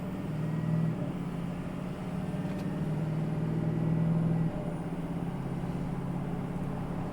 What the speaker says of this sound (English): We're off to an acceleration here.